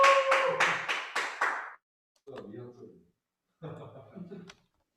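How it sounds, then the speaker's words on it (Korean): Brief burst of hand clapping from a small lecture audience on basic income, several quick claps close by, followed by a speaker talking in Korean. "박수 크게 쳐야 돼"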